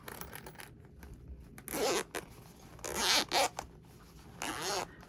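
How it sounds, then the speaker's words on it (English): Zipper with a butterfly pull being drawn along a vinyl case: several quick rasping zips in separate bursts, close and clear. "It's got a cute little butterfly zipper pull."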